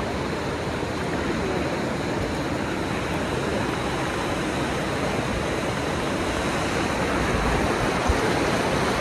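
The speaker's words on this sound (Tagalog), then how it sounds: "Grabe yung alon." Strong river water rushing near Kaparkan Falls makes a loud, unbroken broadband roar of waves and current that holds steady throughout, with no voices.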